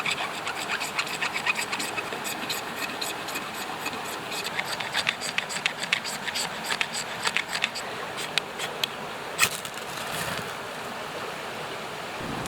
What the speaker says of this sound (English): let's try to scrape down some magnesium and ignite it with the integrated Firesteel